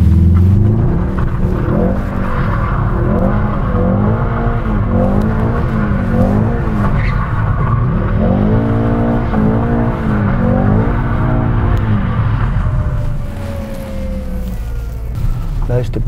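A Mercedes-AMG GT drifting, its engine revving hard in repeated rising and falling sweeps while the tires squeal, loud and close, with voices speaking over it before the noise eases near the end.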